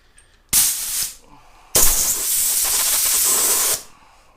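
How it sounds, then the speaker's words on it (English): Brake cleaner sprays onto a metal tap to clear off oil and residue, heard as two loud, close hissing bursts, a short one and then a longer one of about two seconds. "Brake clean the tap off just to get all that oil and all the residue off."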